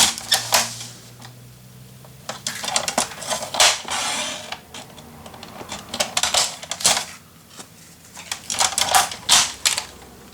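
Paper being cut for a pink romance scrapbook mini album, a run of sharp crisp snips and crunches in irregular bursts, close and fairly loud, with short pauses between.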